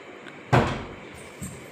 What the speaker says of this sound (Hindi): चाहिए दरवाजा बंद कर, तो मच्छर आएंगे जल्दी।